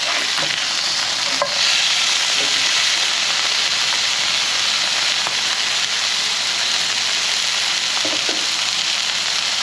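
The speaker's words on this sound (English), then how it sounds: "It is time to flip these burgers." Elk burgers with butter sizzle loudly in a hot pan as they are flipped: a dense, constant frying hiss, with a few faint spatula scrapes and taps breaking through, close up and without talk.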